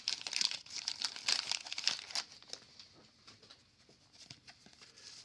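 Crinkly plastic wrapper of an old-school baseball card pack being torn open and crumpled, close and busy for about two seconds, then fading into lighter scattered rustles and taps.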